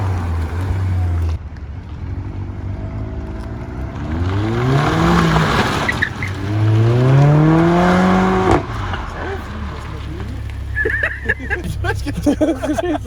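Renault Clio 4 RS and Mercedes A45 AMG launching side by side in a race, engines revving and rising in pitch through repeated gear pulls, fairly close and loud, with people talking over it and wind noise.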